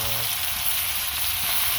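Fish frying in hot oil, a steady loud sizzle with a bright hiss that holds throughout, close and alone with no voices.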